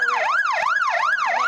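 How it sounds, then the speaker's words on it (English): A car siren wails steadily close by, its pitch sweeping up and down in a regular repeating cycle about every 0.4 seconds, loud and continuous with no other sound over it. "Did she accidentally trigger the siren on her car somehow?"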